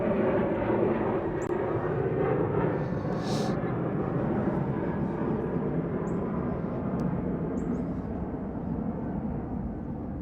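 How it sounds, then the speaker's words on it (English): An airplane passes overhead with a continuous broad engine roar that stays loud and steady the whole time, plus a few faint high chirps on top. "airplane would be coming by."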